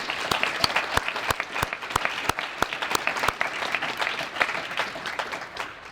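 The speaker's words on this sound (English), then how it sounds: "Let's applaud them for all what they do." Applause from an audience at a community press conference in South Omaha fills the room, with steady clapping and a few sharp, distinct claps standing out near the microphone.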